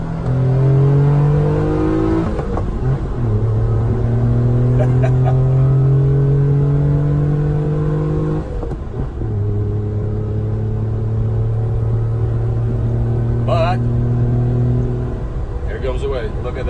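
A 1990 Mitsubishi MiniCab kei van with a 5-speed manual accelerates in second gear, its small engine droning loudly with rising pitch, a brief shift break midway, then climbing again, close and continuous.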